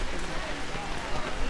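Steady rain falling at an outdoor National Day of Mourning gathering, a dense continuous hiss that fills the whole moment.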